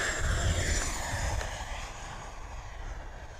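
Freewing F-4 Phantom II RC jet with a 90mm 8s-powered ducted fan taking off, a loud broadband roar that stays steady and fades slightly as the plane moves off, with no talk.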